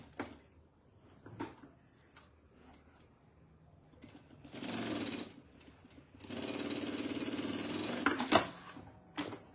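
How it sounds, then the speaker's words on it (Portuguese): A sewing machine stitches fabric pieces for a bread basket, running in two steady buzzing stretches between softer handling clicks and taps, close and moderately loud, no voices. "Encontra aqui e costuro."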